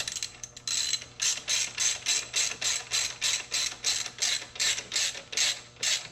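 A ratchet with a Torx bit on an extension runs down the valve cover guard bolts on a BMW R1250 motorcycle, giving steady repeated clicking bursts, close and clear, with no talk.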